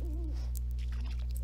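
A soft owl hoot rises briefly at the start in the Harvest Moon: A New Beginning farming game, a single short call over a steady background hum.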